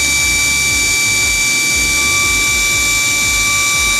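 A budget brushless cordless impact drill runs steadily in drilling mode at its first speed setting with torque at 20, spinning near 400 rpm: a continuous, even motor whine with steady high tones over a broad hiss, close and loud, with no talking.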